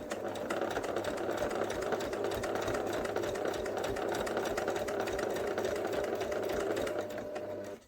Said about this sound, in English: now let's sew all the way down to the end here, and then we'll do a couple of reverse stitches to finish